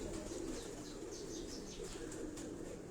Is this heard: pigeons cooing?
yes